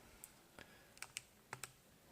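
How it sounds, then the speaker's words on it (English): Calculator keys pressed one at a time while a quadratic formula value is entered, about seven short, crisp taps in an uneven rhythm, close and fairly quiet with no talking. "I suggest getting your calculator and typing in what's underneath the square root"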